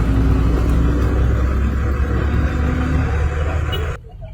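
Motorcycles and other vehicles queue past an overturned palm-oil truck on the Palembang–Indralaya highway, a loud, continuous close traffic rumble with engine drone that drops away abruptly just before the end.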